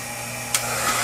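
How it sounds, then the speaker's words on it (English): A hair dryer blows a steady, close whir of hot air onto a can, with a brief bump as it moves. "A hairdryer doesn't quite put out enough heat to do this."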